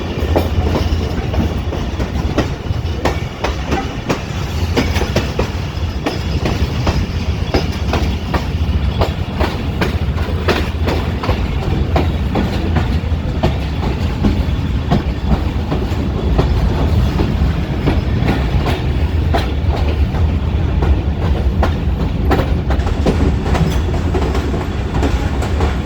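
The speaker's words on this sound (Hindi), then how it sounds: "रायगढ़ जंक्शन पे अराइवल हो रही है 13 पवाम एक्सप्रेस" The Awam Express, hauled by a ZCUP 30 locomotive, rolls into a junction in Pakistan with loud, continuous rumbling and rhythmic clickety-clack of wheels over rail joints, heard close from aboard the train.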